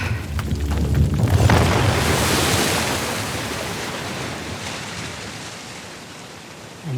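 Waves surge and wash in Uncharted: The Lost Legacy, a loud rushing swell that peaks early, then recedes into a softer hiss of water.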